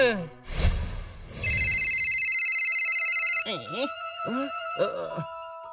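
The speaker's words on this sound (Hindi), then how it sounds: "आ गया, लगता है उसी का फोन है" A telephone rings with repeated electronic trills, loud and close, and a voice comes in partway.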